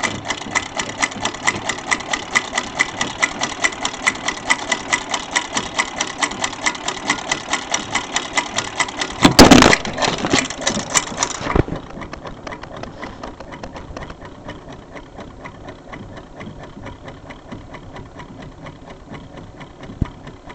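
Sewing machine fitted with a buttonholer attachment stitching around a buttonhole, a loud, fast, evenly pulsing mechanical chatter for about nine seconds, a brief clatter, then the motor winding down into a faint hum.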